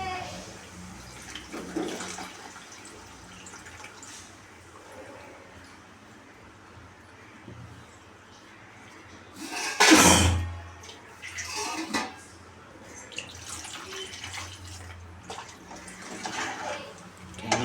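Tamarind water poured into a pot for marundhu kuzhambu, a medicinal South Indian curry: one short, splashy pour midway through an otherwise quiet kitchen scene with faint background sounds.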